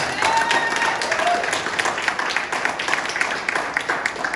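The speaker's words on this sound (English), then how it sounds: "give them a round of applause" Crowd applause and clapping for the new Alpha Phi Alpha fraternity line members at a one-year celebration, a dense, steady patter of many hands held at an even level throughout, with some cheering voices mixed in.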